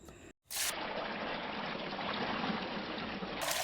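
Water runs steadily and close by as squid are washed by hand in a village, a continuous trickling wash that starts abruptly after a short silence and stays loud throughout.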